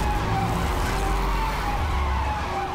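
Racing video game car at high speed overtaking a Mercedes and firing nitro, a loud continuous engine whine and road roar with a steady tonal hum and no pauses.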